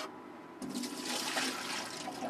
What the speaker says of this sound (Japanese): 水捨てるよ。